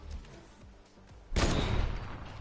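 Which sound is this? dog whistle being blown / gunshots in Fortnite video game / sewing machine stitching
gunshots in Fortnite video game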